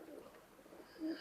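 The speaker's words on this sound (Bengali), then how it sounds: "ভিউয়ার্স এখানে আরেক পেয়ার কেটিএম কবুতর দেখাচ্ছি।" A pair of KTM pigeons, alongside Pakistani Teddy pigeons offered for sale, give a brief low coo close by, a soft rolling call lasting about a second with no speech.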